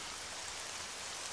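Steady rain falls in the survival video game Breaking Point, an even, hissing wash of drops with no pauses, alone.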